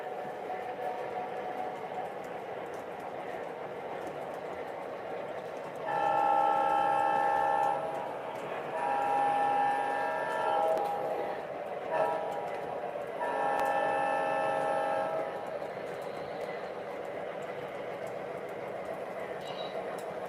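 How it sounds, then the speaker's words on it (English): Model railroad GP7 locomotive sound set, heard as a steady low prime mover rumble with three long sounded horn blasts, close and clear, with faint voices in the background. "it's even got a good prime mover sound"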